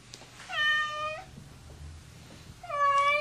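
A house cat gives two clear, drawn-out meows, one early and one near the end, close and fairly loud, with a quiet pause between them and no talking.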